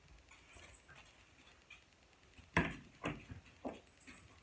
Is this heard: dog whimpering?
yes